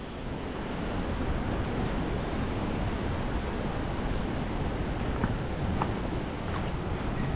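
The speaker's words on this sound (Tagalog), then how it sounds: "Sana wag nang tumuloy ang malakas na hangin" Strong wind roars steadily at a coastal river mouth, a loud, dense broadband rush blended with surf, holding at a constant level with a few faint higher clicks toward the end.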